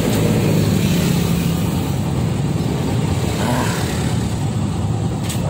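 Idling and creeping cars and engines in a morning traffic jam on the way to a market, a constant low rumble close by with a faint rev and a short higher whine near the end.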